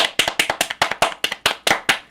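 Rapid hand clapping, about a dozen sharp claps in steady rhythm, close and fairly loud with no talking.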